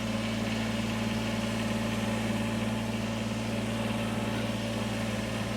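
A tractor with a box blade on the back idles close by, a steady loud droning hum with strong low tones and vibration and no change in rhythm.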